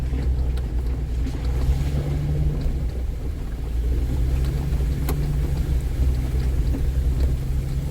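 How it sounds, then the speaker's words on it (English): A 4x4 off-road vehicle drives through a water crossing, its engine a steady low rumble with water rushing and splashing around it, loud and continuous with no talk. "This is my second water crossing."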